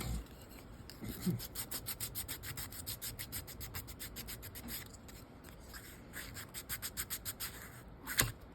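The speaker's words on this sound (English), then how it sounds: "we're going to sand the very edge because this is kind of a smooth material" Light sanding along the edge of a smooth page for a half-scale gold plate, a soft steady rasping rub in quick repeated strokes, fairly quiet and close, with one sharper scrape near the end.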